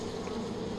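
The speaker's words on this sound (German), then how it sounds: "Was ist das denn? Das sind Bienen. Wenn ich das richtig höre." Bees hum in a steady, close, low drone in the video game Far Cry 5, one brief continuous buzz with no talking over it.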